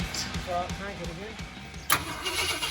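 Ford Thunderbird engine with a Holley carburetor cranking in a garage, a rhythmic chugging starter turning over for nearly two seconds before a sharp catch and louder burst as it fires and runs, with voices talking over it.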